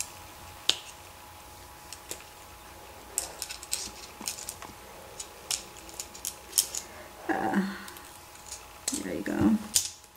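Scissors snip the excess cord from a handmade pendant, giving a few sharp close clicks among light handling noises, with a voice speaking briefly.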